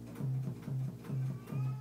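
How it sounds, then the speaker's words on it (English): A sub bass patch on a Native Instruments Maschine plays four low, sustained notes in an even, repeating rhythm, loud and close, with no talking. "It's a sub bass sound"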